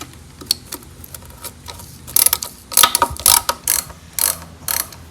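Ratchet wrench working a rusty bolt loose on a VW Type 4 engine, a run of loud, close clicking bursts that grows busier and stronger in the second half, with no talking.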